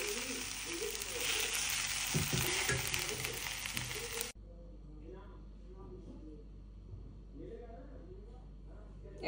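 A vegetable stir-fry (bhaji) fries in a pan, sizzling loudly at first and then cutting out abruptly to quiet, with someone talking over it.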